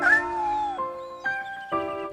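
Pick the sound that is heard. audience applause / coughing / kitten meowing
kitten meowing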